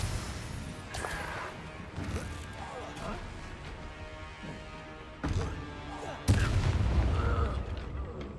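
Fire and blast spells like Incendio and Confringo go off in Hogwarts Legacy combat, a series of heavy booms and crashing impacts at irregular intervals, the loudest near the end, with a voice speaking between them.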